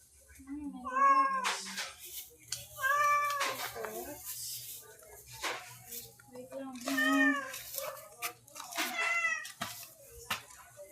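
A house cat meows again and again, clear and close, in drawn-out, wavering cries spread over about ten seconds, with a person talking at times in between.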